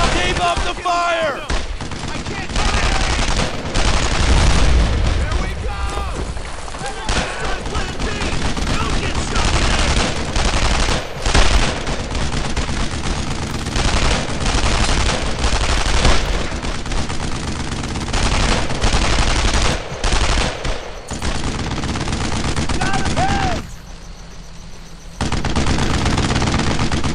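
Sustained gunfire from the World War II shooter game Brothers in Arms: Earned in Blood, with dense machine-gun bursts and rifle shots that fill nearly the whole stretch, a brief lull near the end, and shouted voices mixed in.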